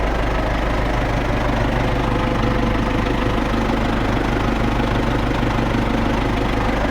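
An MTZ tractor engine, freshly rebuilt with two new cylinder liners, runs steadily at idle for the whole stretch, a loud, continuous low rumble with a faint knocking texture and no talking over it.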